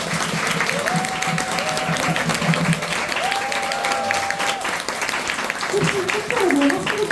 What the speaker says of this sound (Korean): 다시 한번 2분께 마지막으로 큰 박수 부탁드립니다